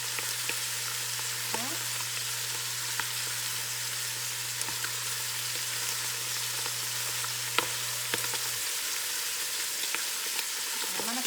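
Chicken frying in butter in a pan over high heat with granulated garlic added: a steady, even sizzle holds throughout, with a low hum beneath and scattered faint clicks and taps.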